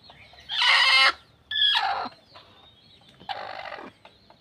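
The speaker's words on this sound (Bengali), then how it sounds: "আর এই যে এখানে মুরগি আর কি ডিম পাড়ছে" A hen clucking while laying eggs, three loud bursts of agitated fowl calls, close by, separated by short pauses with no talk.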